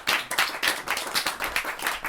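An audience claps after a poem at a parlor poetry reading, a smaller group whose claps come in uneven, pulsing bursts, close and distinct rather than a smooth roar.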